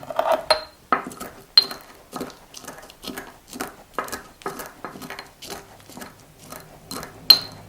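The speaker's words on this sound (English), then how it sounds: "a tablespoon of pickling spice, which I just need to crush a little bit" Pickling spice is crushed by hand, giving a run of sharp crunching and grinding strikes at a fairly regular rhythm, close and fairly loud, in a quiet room.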